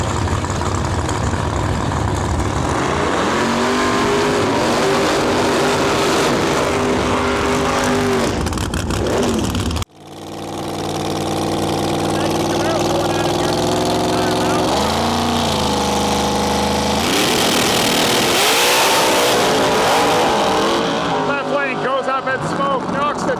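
Extreme Big Tire drag race cars roar down the strip at a Western Canada heads-up event, a loud sustained engine blast that cuts out abruptly and then rebuilds into a second long, screaming pass, with a commentator talking over it.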